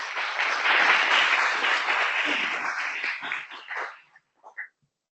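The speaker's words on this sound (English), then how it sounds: "Let's give Rafael a round of applause" Applause from a symposium audience on labor justice and wage theft, steady and dense for about four seconds, then thinning into a few scattered claps before fading to silence.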